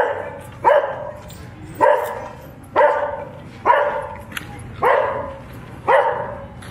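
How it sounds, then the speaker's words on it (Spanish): A dog barks hysterically from a balcony, sharp loud barks repeating in a steady rhythm about once a second, close and clear with no talking. "¿Qué opinan ustedes de la histeria del perro de balcón?"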